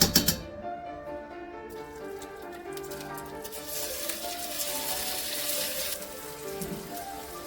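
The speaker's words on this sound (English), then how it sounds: "First we'll fry the mushrooms for a little bit." Mushrooms frying in lard in a pan, a steady crackling sizzle after a few knocks at the start, close and continuous with no talking.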